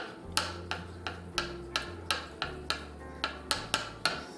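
Knife chopping salad ingredients such as turkey and boiled eggs on a cutting board, with about a dozen evenly spaced, sharp taps over a low steady hum, close and fairly loud.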